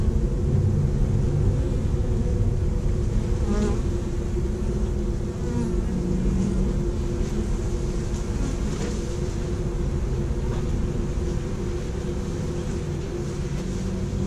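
Honeybees from an opened urban beehive make a continuous low buzzing drone, close and steady, with a few individual bees flying past.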